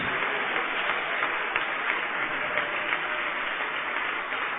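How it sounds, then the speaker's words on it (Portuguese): A church congregation applauds together, a steady, dense wash of clapping that holds at an even level throughout with no talking over it. "Vamos aplaudir mais ao nome do Senhor Jesus"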